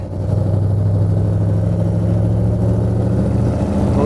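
A 1956 Ford pickup's engine and exhaust pipes give a steady, deep rumble close by, holding an even, throaty drone with slight fluctuations.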